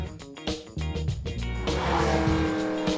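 A black Ferrari drives close by with a loud engine that revs and accelerates, then settles into a steady roar with a brief tire squeal.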